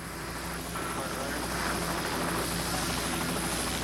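Recovery helicopter hovering about 40 feet above the Apollo 11 spacecraft on the ocean surface after the 1969 splashdown, a loud, steady rotor drone and engine roar that fills the whole scene.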